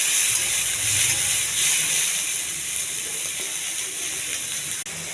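Chopped onions with curry leaves fry in a pan, giving a steady bright hissing sizzle that holds evenly throughout with a single sharp clink near the end.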